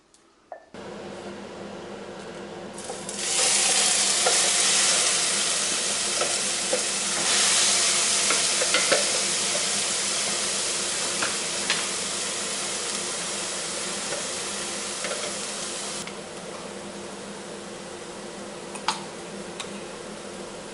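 Onions frying in a small amount of oil with a pinch of salt, a steady broadband sizzle that swells loudly after a few seconds and holds for most of the clip, with occasional stirring scrapes and no voices.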